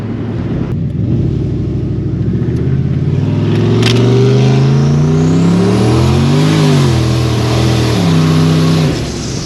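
Turbocharged 600-horsepower Lincoln engine, fitted with nitrous, revving loud and close as it accelerates, pitch climbing through the gears with brief dips at the shifts, a continuous heavy roar from start to finish.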